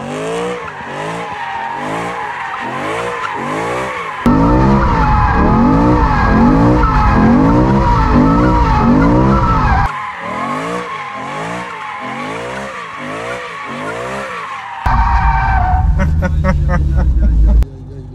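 A BMW M5 V10 and an M3 with a GTS kit circle close around the listener, tires squealing in long wavering howls over loud engine roar that swells and fades as they pass.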